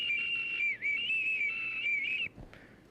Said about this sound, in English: Bro, you were whistling